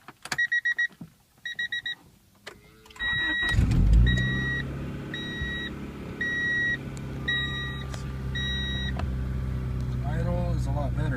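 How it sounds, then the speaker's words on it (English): A 1992 Honda Prelude with an idle surging problem cranks and catches, then settles into a steady idle, preceded by dashboard chimes and with repeated warning beeps sounding over the running engine. "Start the car, see if there's any change."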